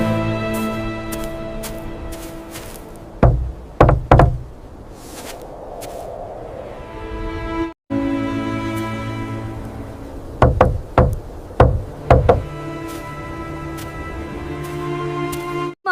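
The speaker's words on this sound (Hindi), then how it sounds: "कोई दरवाजा बजाती हूँ।" Knocks on a wooden door in a village setting, arriving in two separate bursts of several sharp, loud raps over a soft musical background with no talking.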